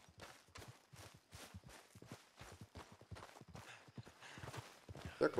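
A horse's hooves clip-clop in steady rhythm through Red Dead Redemption 2, the footfalls growing louder as the animal draws near, ending in a brief rustle.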